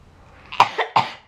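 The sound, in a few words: person coughing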